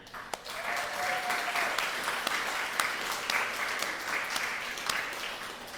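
Audience applause at a graduation ceremony as graduates enter, a steady dense wash of many hands clapping throughout, with a brief tonal whistle or squeal early on.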